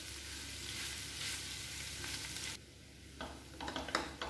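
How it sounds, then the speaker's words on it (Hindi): Potato masala with chilli powder and salt sizzles steadily in a pan over medium heat; the frying hiss drops partway through, then spoon stirring brings back scattered scrapes and crackles. "अब सभी चीज़ों को अच्छे से मिक्स कर लेंगे और 3 से 4 मिनट तक भूनेंगे मीडियम गैस पर।"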